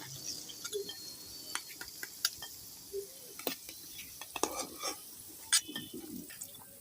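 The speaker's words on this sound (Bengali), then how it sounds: "আমি বাকি পাশটাও এরকম করে ভাজি করে নেব" Palm-fruit puli pitha fry quietly in hot oil, a soft sizzle broken by scattered clinks and scrapes of a utensil against the pan.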